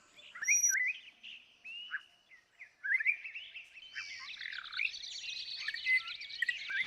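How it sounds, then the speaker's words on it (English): A Malabar whistling thrush in the Western Ghats of Kerala sings a long, clear, close series of varied whistled phrases and rising notes, loud and alone with no background noise. "The long-pierced call of the iridescent blue-black Malabar whistling thrush, which sounds like a cheeky schoolboy,"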